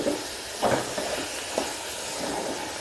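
Grated beetroot roasts for halwa in a kadhai over a medium-to-high flame, a steady close hiss broken by a few soft scraping strokes of a spoon.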